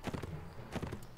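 Horse hooves clip-clop in the video game Mount & Blade: Warband with the Native Expansion mod, a rapid rhythmic patter of steps in two bursts over a noisy battlefield background.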